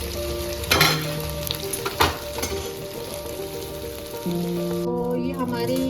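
Chicken wings frying in hot oil, a loud, continuous sizzle with crackling bursts and stirring clatter, a steady tonal hum running underneath throughout.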